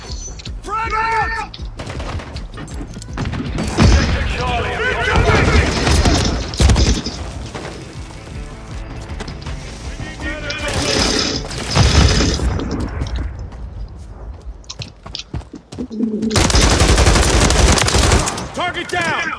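Call of Duty MW3 gameplay on PC filled with loud, continuous gunfire and automatic bursts, broken by heavy grenade blasts around the middle and a sustained roar near the end, with shouted voices over the combat.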